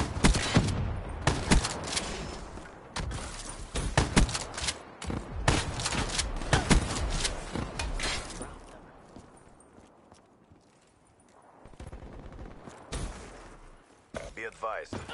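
Sniper rifle fire in a multiplayer shooter game, mixed into a dense clatter of gunfire and explosions with radio-style announcer voice callouts, busy and loud throughout, easing off briefly before the shooting picks up again.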